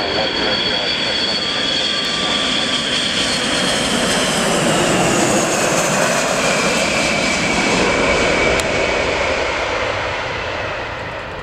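A USAF KC-135 tanker with jet engines lands at RAF Mildenhall, a loud, steady roar of engine noise sustained throughout and easing slightly toward the end, with no talk.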